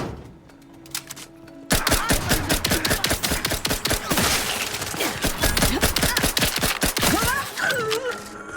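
A loud, sustained burst of rapid gunfire erupts during a firefight in The Outer Worlds 2 after a quiet opening, with dense overlapping shots continuing for several seconds before trailing off under a brief voice.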